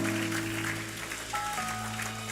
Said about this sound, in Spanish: Come on, give a clap offering to the Lord.